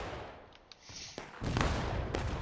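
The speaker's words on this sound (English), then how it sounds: "that was a really good artillery shot by the CSA. Oh, followed by the explosion." Cannon fire in the War of Rights video game: a sharp artillery shot cracks out, followed moments later by a heavier, sustained explosion rumble with a second burst on top.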